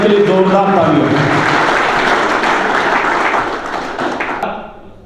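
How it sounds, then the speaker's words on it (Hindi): A crowd applauds loudly at an award ceremony honouring officials, a dense, steady roar of clapping that holds for several seconds and then fades away toward the end. "6ठी बार अवार्ड को जीत रहे हैं, उसके लिए जोरदार तालियां।"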